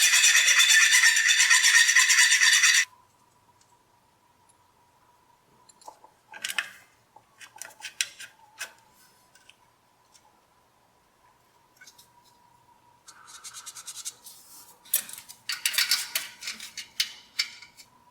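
A steel brake line end is flared on a Tri-Five Chevy build, a loud hiss at first giving way to quiet, scattered metallic clicks and scraping with short bursts of tool noise, close up.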